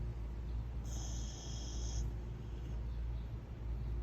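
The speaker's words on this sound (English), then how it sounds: "And he started to snore." A German Shepherd puppy snores softly while asleep in a parked camper, the breathing sounds low and steady beneath a constant background hum.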